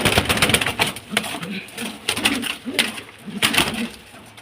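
A giant exhibition pigeon, a female fancy pigeon, held in the hand: repeated throaty cooing and soft fluttering rustles close by, with faint voices in the background.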